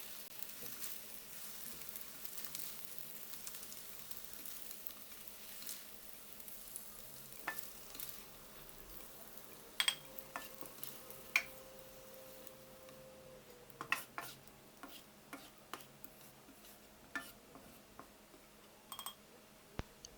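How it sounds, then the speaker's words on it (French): Eggs and tomatoes stir-fried in a hot oiled wok give a steady low sizzle, with scattered sharp clicks and scrapes of a utensil against the metal that grow more frequent toward the end; no one speaks. "on réchauffe le wok et on fait sauter la tomate"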